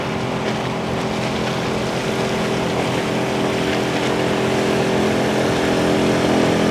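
The motorboat engine of crayfish fishers drones steadily and loudly, a close, unbroken rumble with a rough hum that holds for the whole stretch.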